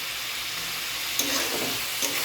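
Meat being sautéed in a pan, giving off a steady close hiss and sizzle with a couple of brief scraping stirs near the end and no voices.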